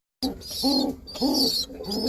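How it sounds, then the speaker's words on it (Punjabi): A female pigeon coos nearby in a series of soft, rounded, repeated calls. The calls come in a steady rhythm and are heard clearly on their own. "ਇੱਕ ਮੱਗਰ ਕਬੂਤਰੀ, ਇਹ ਕੂੰ ਕੂੰ ਕਰਦੀ"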